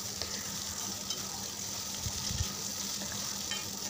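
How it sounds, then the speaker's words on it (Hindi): Flour-coated vegetable pakoras fry in oil over a low to medium flame, a quiet and continuous bubbling sizzle with faint crackles throughout and no talking. "तो इसको अच्छे से फ्राई कर लेना है, लो टू मीडियम फ्लेम के बीच में रख के ही इसको गोल्डन ब्राउन करके फ्राई कर लेना है"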